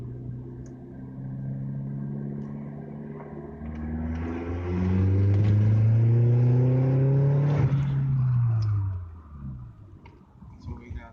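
A Volkswagen Passat running a stage 1 tune accelerates hard under turbo boost, its engine note rising through several revving pulls that build to a loud roar and then fade, with faint speech underneath.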